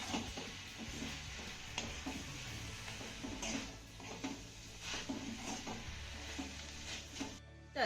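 Grated coconut and chopped onion sautéed in a pan, a quiet steady sizzle with repeated soft scrapes and stirring knocks of a spatula, close and continuous.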